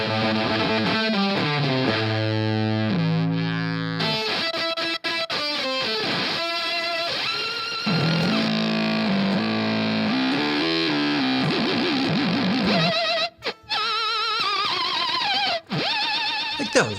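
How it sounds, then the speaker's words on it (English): Electric guitar through a Game Changer Audio Motor pedal into an amp: heavily distorted, warbling, chaotic tones with pitch swoops, stuttering cutouts and abrupt bursts, loud and continuous. "Those are some of the most disgusting, disturbing, absolutely vile guitar sounds I've ever heard come out of my amp."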